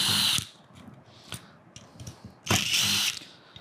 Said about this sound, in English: I'm gonna pull these 4 Phillips head screws off the back.